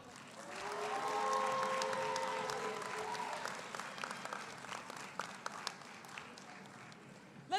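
Audience applause at a law school graduation commencement swells to a steady dense clapping, then thins into scattered individual claps as it fades, with a faint tonal sound lingering early on.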